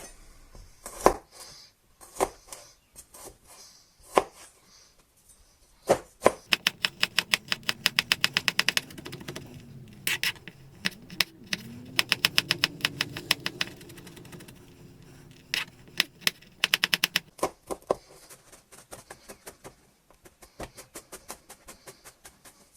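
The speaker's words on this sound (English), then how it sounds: "I'm going to start off by finely chopping the garlic up." A knife chops garlic finely on a board for a quick weeknight spaghetti bolognese, with sharp, close taps that come in fast bursts and rapid runs, pausing briefly between flurries, with no talking.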